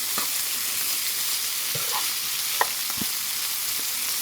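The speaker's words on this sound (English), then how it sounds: "I should not be using metal utensils in my frying pan" Canned potatoes fry in a pan, crackling with a steady sizzle while a metal utensil scrapes and knocks against the pan in a few sharp, close strikes.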